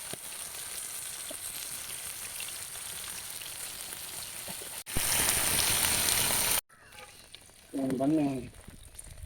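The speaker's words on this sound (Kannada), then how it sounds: "ನನಂಜಿ ಕಾವಲಿಡು ಫ್ರೈ ಮಲ್ಪುಗ" Fish frying Kerala style wrapped in banana leaf, a steady hiss of sizzling oil that swells loudly for a couple of seconds, then drops back, with brief clatter and a short burst of sound near the end.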